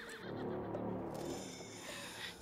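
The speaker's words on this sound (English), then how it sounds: "The horse grew angry and summoned the other monsters." A horse in the video game Resident Evil Village lets out a long, loud whinny over a dark, rumbling game soundscape, with no talking.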